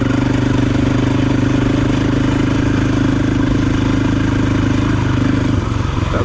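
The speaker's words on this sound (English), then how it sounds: "I keep my mouth shut now so you can listen to how the engine works." A Husqvarna FE 501 dual-sport motorcycle engine runs steadily and loudly up close, a dense low mechanical drone with faint clatter, easing off slightly near the end.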